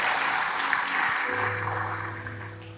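A church congregation at an Indonesian worship service claps in a short, even burst of applause, with a low sustained tone entering partway through.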